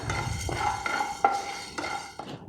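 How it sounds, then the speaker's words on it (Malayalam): Urad dal roasting in a pan for homemade Kerala sambar powder, with several distinct scrapes and clinks of a spoon stirring against the metal under a soft, steady background. "ഉഴുന്ന് ഇതേപോലെ തന്നെ വറുത്തെടുക്കാം."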